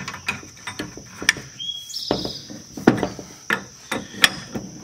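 A big wrench working a one-and-one-eighth-inch locking-nut bolt on a Kubota tooth bar, with rhythmic metallic clanks and ratcheting knocks about every half second, close and fairly loud.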